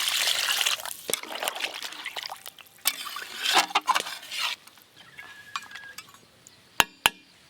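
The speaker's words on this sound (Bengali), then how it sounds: "এবার জল দিয়ে ভালো করে সেদ্ধ করে নেব" Water trickles and splashes into a pot of mutton and potato curry, with bright metallic clinks of the vessel and spoon scattered in between, close up and fairly quiet.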